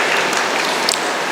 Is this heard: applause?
yes